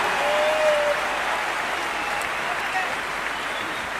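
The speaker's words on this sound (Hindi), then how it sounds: "आप जोरदार तालियों से इनको स्वागत कीजिए।" Enthusiastic audience applause fills a hall in Kolkata as speakers are welcomed onto the stage, a steady sustained wash of clapping from a large crowd that continues for several seconds.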